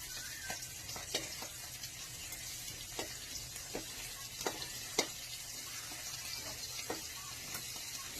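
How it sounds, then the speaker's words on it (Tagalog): Tilapia and dried fish frying in cooking oil, a steady close sizzle with scattered sharp pops and crackles throughout, no talking. "Prito natin."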